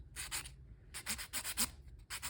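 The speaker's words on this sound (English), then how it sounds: "if you really put your soul into it and sand it really hard, you might end up sanding off the magnet" Hand sanding on a door panel: repeated scratchy rubbing strokes in short bursts with brief pauses, close and fairly loud.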